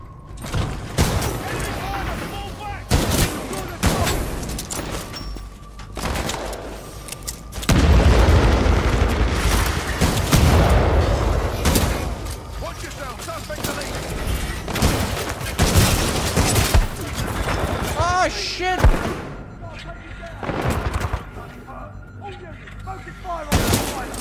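Grenade blasts and gunfire from the video game Titanfall 2 pound almost without a break, with deep booms and sharp shots layered over continuous battle noise and talk throughout.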